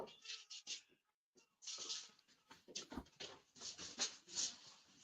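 Dogs in a home whine, whimper and yip excitedly in rapid, uneven bursts as someone arrives, faint and somewhat distant, with short pauses between flurries.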